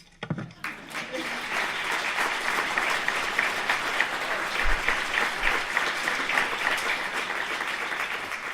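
Audience applause at a public comment meeting about a water utility, a brief pause and then steady, dense clapping from the room lasting several seconds.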